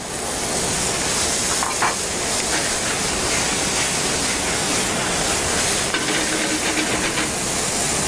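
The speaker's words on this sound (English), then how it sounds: "Just allow it to come together and saute real quick." Gnocchi with tomatoes, guanciale and garbanzo beans sautés in a hot pan, giving off a continuous loud sizzle and hiss. Faint stirring clinks break through now and then.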